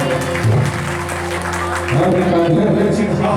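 An audience at a stage show claps in a dense, sustained burst of applause, loud and close, with a voice and tonal sound running beneath it.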